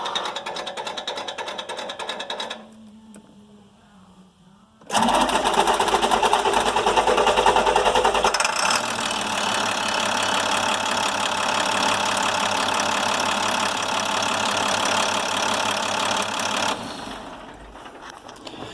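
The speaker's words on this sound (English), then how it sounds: "let's go ahead and crank it again. See how long it takes to fire up." An old International DT466 diesel truck engine with a hot no-start condition cranking for a few seconds, then firing up into a loud, rough, knocking idle that settles and runs steadily, heard close and with no talking.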